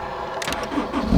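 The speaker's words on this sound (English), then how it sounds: "there's an engine ignition starter right here" A convertible JDM car's engine fired by an ignition starter button, a brief whirring crank followed by a mid-pitched catch and rising idle, close and fairly loud over a quiet background.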